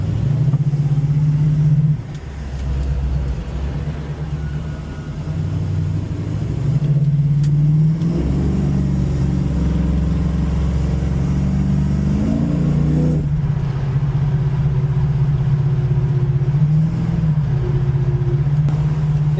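Plymouth Cuda with a 340 stroker V8 heard from inside while driving, a steady loud engine drone with a few rises in pitch as it revs and shifts, no talking.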